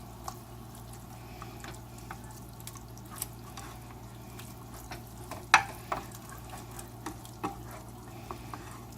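Ground meat seasoned with adobo and salt fries in a pan for Puerto Rican picadillo while being stirred; a faint, steady sizzle sits over a low hum, broken by light scraping clicks and one sharper clack.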